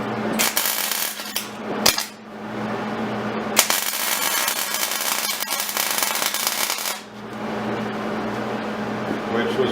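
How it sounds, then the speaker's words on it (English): Tack welding a steel coat rack: harsh crackling arc bursts, several loud sputtering runs separated by short pauses, close by. "Put some tack weld."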